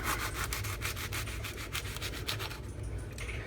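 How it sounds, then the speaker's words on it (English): Serrated knife sawing through the crisp dry shell of a cream puff, a rapid rhythmic scratchy rasp of short strokes, close and fairly quiet, with no talk. "I'm just using a serrated knife, and what I'm going to do is about 1/3 in, I'm just going to cut the top off."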